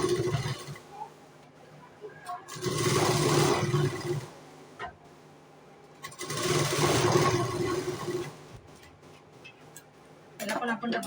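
A sewing machine runs in two bursts while double-stitching a katori blouse, its steady mechanical whir rising for a couple of seconds each time, with quieter gaps and low background sound between runs.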